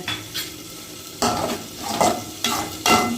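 Cooked amaranth greens (sirukeerai) are mashed in a pot over a low flame, giving a few rough scraping and squishing strokes in short bursts, close and moderately loud, with no talking.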